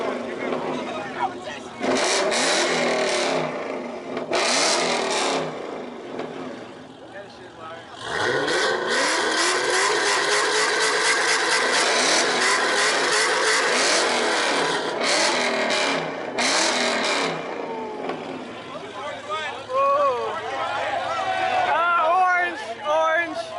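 Car exhausts rev hard in an exhaust battle, loud bursts of engine roar rising and falling in repeated waves with short gaps between, while people talk and cheer nearby.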